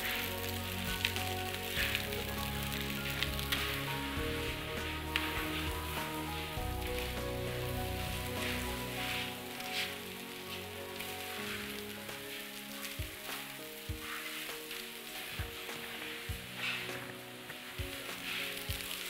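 Spring onions hit hot oil in a wok as Chinese fried rice is stir-fried, giving a loud, dense, continuous sizzle with scraping and clinking of a utensil throughout, and no talk.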